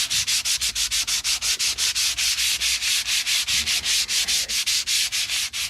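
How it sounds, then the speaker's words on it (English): Sandpaper rubbed back and forth over a fallen-in kitchen sink surface, a steady rhythmic scrubbing of about thirty close, even strokes with no voices. "I can go over this now with 200 grit and then finally 340 grit before I go ahead and call this done"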